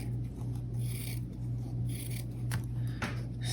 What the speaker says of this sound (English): I'm going to use my curved scissors because they make it really easy for me, and I'm going to cut around the outside